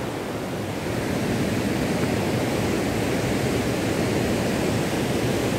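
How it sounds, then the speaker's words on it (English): The deep Chandrabhaga River in Himachal, running in flood amid landslides, gives a constant loud roar of rushing water, steady and unbroken, with no voices over it. "My goodness, look at the Chandrabhaga River in Himachal. It's a very deep river."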